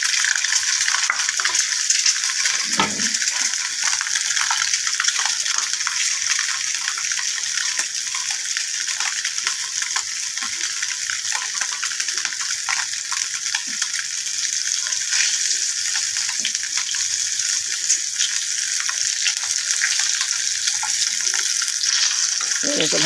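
Eggs fry in oil with turmeric in a pan, giving a steady, dense sizzle that runs unbroken throughout, close and fairly loud.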